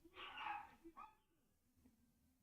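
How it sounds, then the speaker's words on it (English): Small Chihuahua dogs yap indoors at home, one sharp bark burst followed by a shorter yip, faint and somewhat distant, then the room falls quiet. "I don't know if you guys are listening to my dogs"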